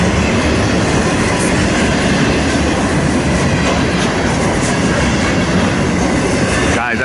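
A freight train on the Harrisburg line rolls steadily past, a loud, continuous rumble of wheels and rail clatter filling the whole stretch, with a faint brighter flutter near the end.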